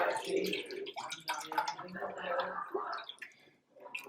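Water glugs and splashes as three cups are poured into a cooking pot, bubbling unevenly with a voice talking over it.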